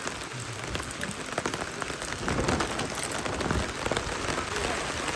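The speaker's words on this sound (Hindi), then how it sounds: "बारिश बारिश, पानी पानी," Steady, dense rain pattering on a surface in the mountains in winter, a continuous hiss that swells slightly louder midway, with faint voices underneath.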